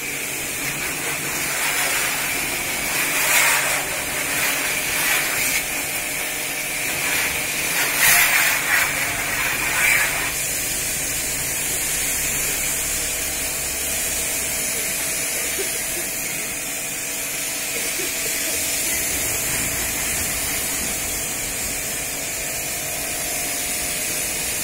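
A high-pressure car washer blasts water onto a 2016 Maruti Swift in Ramesh Nagar, New Delhi, giving a steady, close hiss and spray that runs the whole time, with a few louder spray bursts early on.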